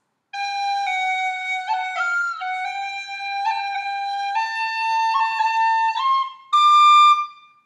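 An Irish tin whistle plays a phrase from Garret Barry's Jig, a steady run of clear, bright melody notes close up and alone, with a brief, louder high flourish near the end.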